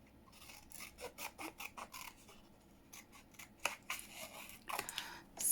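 Paper being cut with scissors for an altered-book junk journal page, a quiet, close series of rhythmic snipping and rustling strokes that pause briefly and then resume a little louder, with no talking.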